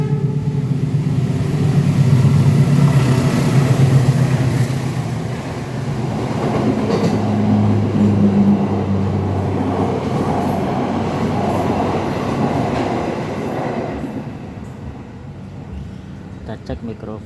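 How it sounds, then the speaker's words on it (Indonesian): A train rumbles past nearby, a loud low roar that swells, eases, then swells again with faint rhythmic clatter before fading toward the end. "ada suara kereta"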